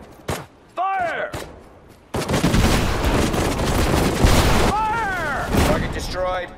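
Units fire weapons during the Battle of Saipan in the video game Sudden Strike 4: a dense volley of gunfire and booming shots, loud and sustained, with short radio voices breaking through before and after.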